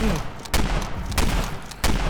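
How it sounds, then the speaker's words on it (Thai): Video game gunfire from Call of Duty zombies mode: three sharp, loud shots spaced roughly two-thirds of a second apart over a low rumbling background. "ยิงไปยิงไปยิงไป"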